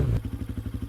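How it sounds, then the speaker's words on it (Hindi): A cartoon motorcycle crashes into something and stalls: one loud thump opens it, then a low engine chugs in a steady, even rhythm close to the listener. "बाइक जैसे किसी चीज से टकराई और बंद हो गई"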